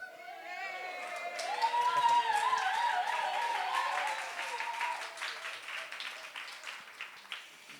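Audience applause for a man being honoured at a talk, a dense patter of clapping that swells, holds and then thins out into scattered claps, with faint crowd murmur underneath.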